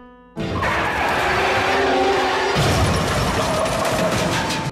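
Sound effect of a car skidding on the road to avoid a truck parked in the middle of it: a sudden loud, sustained tire squeal that swells and holds until the end.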